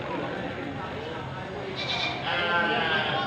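Goats bleat at a crowded livestock market in Padre Garcia, one drawn-out call rising over steady crowd noise and people talking nearby.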